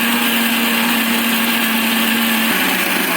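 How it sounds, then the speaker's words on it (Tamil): Mixer grinder whirring steadily as it grinds mango chutney, a loud continuous motor whine that drops slightly in pitch near the end. "இப்போ திரும்ப அரைக்க போகிறோம்."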